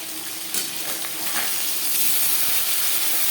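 Pieces of rohu fish frying in an oil-filled pan give a loud, continuous crackling sizzle with bright spitting bursts, steady and close throughout, with no talking.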